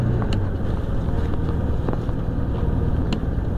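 A four-wheel-drive truck driving on a rough road with the weight over the engine, giving a steady low engine drone and road noise with faint rattles and knocks, no talking.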